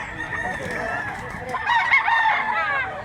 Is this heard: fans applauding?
no